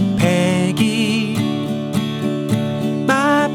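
Strummed guitar chords from the chorus of a song sound in a steady rhythm, close and even in loudness, each strike sustaining with a warm, full tone.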